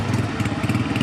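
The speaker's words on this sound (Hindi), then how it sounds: "मोटरसाइकिल भी आ गया" A motorcycle engine runs with a steady, rough mid-pitched putter, close and fairly loud, as it arrives at a cattle farm opening event.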